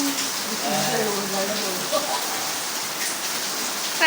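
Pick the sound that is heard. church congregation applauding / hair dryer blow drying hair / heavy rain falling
heavy rain falling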